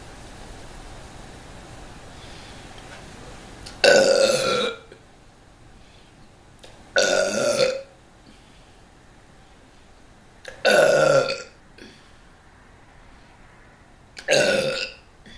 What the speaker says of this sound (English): It's time for the burp show.